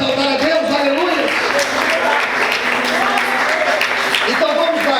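Congregation in a church service applauding, continuous clapping blended with voices and music-like tones, steady and fairly loud throughout.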